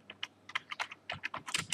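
Someone types in an irregular burst of about twenty close, crisp keystrokes on a computer keyboard, with uneven gaps between them.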